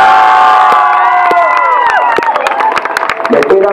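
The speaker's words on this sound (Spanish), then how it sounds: "Aplauso para el Pirata." At an outdoor dog costume contest in Samborondón, a crowd cheers and shouts for a dog dressed as a pirate, with scattered claps and an amplified announcer speaking over the noise, which thins toward the end.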